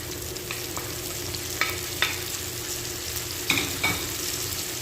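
Tomatoes for ginisang ampalaya sizzle in a hot pan, a steady close frying hiss broken by a few sharp stirring clinks and scrapes, with no talking.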